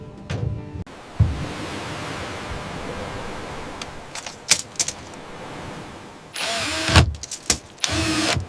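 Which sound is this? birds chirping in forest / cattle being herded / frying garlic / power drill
power drill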